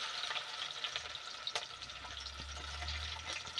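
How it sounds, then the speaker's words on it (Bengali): Chopped onion frying with a few whole spices for chicken samosa filling, a steady close sizzle in hot oil with a lower rumbling hiss building in the second half, occasional stirring clicks. "এটাকে ভালো করে লাল করে ভেজে নেব।"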